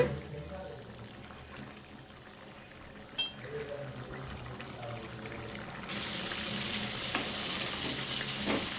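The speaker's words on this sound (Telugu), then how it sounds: "కలుపుతూనే ఉండాలండి దగ్గరకు వచ్చే వరకు, మాడిపోకుండా." Chicken and green leaf curry fries and is stirred in a pan. A soft, close sizzle with scraping strokes swells to a louder, brighter hiss partway through, and a voice speaks faintly underneath.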